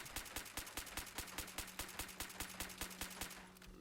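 Rapid gunfire from a fire-rate Crusader pistol in Fallout 76: a steady burst of about eighteen sharp, evenly spaced shots over a low game hum, close and loud, stopping just before the end.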